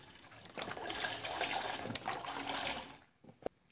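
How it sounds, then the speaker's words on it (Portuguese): Milk is poured into a cooking pot before boiling, a continuous liquid splashing and filling sound for about two and a half seconds, then a quiet pause and a small knock. "Vou colocar o leite para ferver agora, gente."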